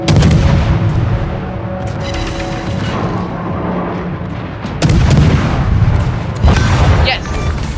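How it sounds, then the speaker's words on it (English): Heavy naval gunfire and warship explosions in the video game World of Warships, loud booming salvos and blasts rolling over one another, with a fresh burst of big detonations in the second half. "I want to make this warship go explode again."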